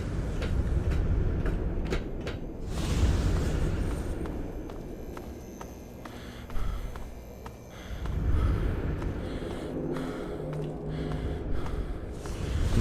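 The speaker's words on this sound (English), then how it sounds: "You could hear my dude just panting heavily" Heavy, ragged panting breaths from a Fallout 3 character repeat over a busy background of footsteps and shuffling noise, steady and fairly close.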